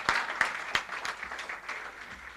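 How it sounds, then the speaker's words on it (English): A crowd applauds at a ceremonial signing and launch event, with sharp individual claps standing out over a steady patter of clapping that continues throughout. "I want you to give her a special round of applause as well."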